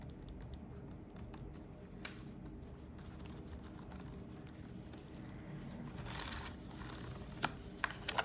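Quiet, soft typing on a Dell KM555 silent keyboard, a faint steady patter of muted keystrokes with a few slightly sharper taps near the end and no voices.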